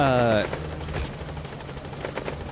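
In-game helicopter from Metal Gear Solid V, a steady rapid rotor chop and engine hum running throughout, while a voice speaks briefly at the very start.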